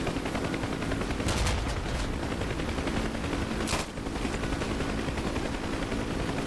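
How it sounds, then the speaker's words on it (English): Rapid cannon fire in the DCS UH-1 Huey helicopter flight simulator game, dense continuous bursts of gunfire under a steady rotor drone, loud and sustained throughout. "I heard some kind of cannon"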